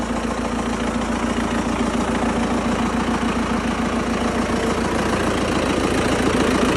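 An MTZ tractor diesel engine idles steadily and loudly up close, a continuous rhythmic knocking chug with no voices.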